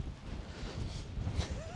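Strong wind blows across open Dartmoor moorland during a wild camp, buffeting the microphone in a continuous, rough low rumble from start to finish.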